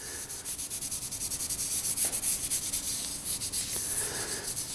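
Hands briskly rub kinesiology tape applied over a shoulder to warm the adhesive, producing a steady, close, rhythmic dry friction that repeats in quick even strokes throughout, with no talking.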